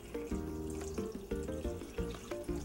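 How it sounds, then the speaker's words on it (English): Two cups of water go into a pot of cherries for dumplings, a close, busy splashing and gurgling with rhythmic clinks and knocks throughout, no voices. "So now we're going to add our 2 cups of water."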